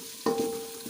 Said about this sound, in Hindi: 2 से 3 मिनट तक इसको फ्राई करेंगे ताकि इसकी खुशबू अच्छे से आए हांडी में